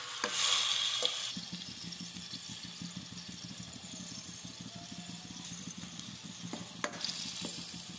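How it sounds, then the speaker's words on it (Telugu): Onion paste frying in oil in a pan, a low continuous sizzle with a louder burst at the start and a few sharp scrapes of stirring toward the end. "అదే ప్యాన్లో ఆయిల్ వేసి తర్వాత ఆనియన్ పేస్ట్ వేసి బాగా ఫ్రై చేసుకోవాలి"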